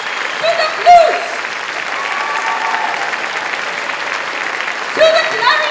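Concert audience clapping for the flute section at a college jubilee concert, a steady wash of many hands from start to finish, with a short voice popping up near the beginning and again near the end.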